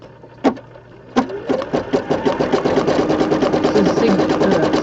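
An embroidery machine sews a satin stitch on a small 4x4 rainbow design, opening with two sharp needle thumps before settling into a fast, even, close mechanical chatter.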